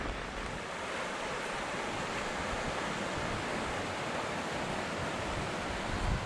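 A mountain stream crossed on an autumn day hike near Outpost Camp on Mt Whitney, with frost and snow around, rushes steadily and close by as a dense, continuous wash of water with no talking.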